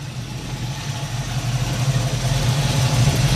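A 1967 Chevrolet Chevy II with a Flowmaster dual exhaust idles close by with a loud, steady, rapping low rumble that swells slightly toward the end.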